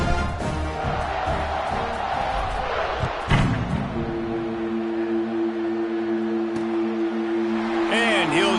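A stadium crowd in an NCAA college football video game, a steady loud roar of cheering fans with a low horn-like tone sustained beneath, continuous throughout.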